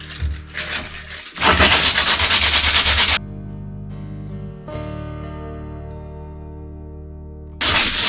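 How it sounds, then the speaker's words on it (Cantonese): Rapid scratchy sandpaper strokes rub back and forth up close, stop for a few seconds while a tonal hum lingers, then start again at the end. "等佢乾咗之後咧，我哋就用砂紙咧散翻滑佢啦"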